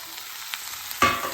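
Spring onion stalks hit a hot pan with a sudden loud sizzle after a quiet stretch, frying steadily while being stirred, close up with no talking.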